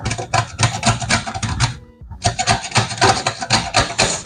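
Lemon rind is scraped across a grater for zest, a loud, close run of rapid rasping strokes with a brief pause midway before the rhythmic grating resumes.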